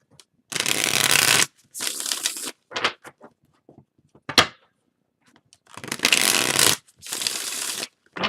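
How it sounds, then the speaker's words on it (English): A deck of tarot cards is riffled in two long bursts with soft taps and clicks between them as the deck is cut and squared, close and fairly loud, no talking. "I'm going to cut the deck for you."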